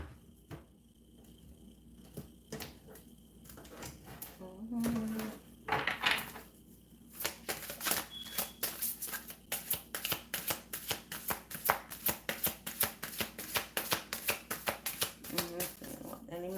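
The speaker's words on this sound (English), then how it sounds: "One more shuffle" Tarot cards are shuffled by hand in a quick, steady run of crisp riffling slaps that builds into rapid bursts, preceded by a quieter stretch with soft handling noises and a brief voice.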